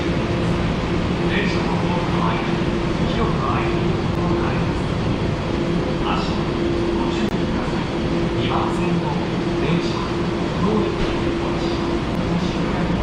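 Loud, constant rumble and rattle of a subway train in a Tokyo station at Asakusa, with a steady hum and scattered clanks, under faint talk throughout.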